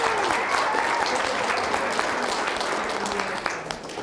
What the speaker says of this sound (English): Let's give those 5 teams some big applause.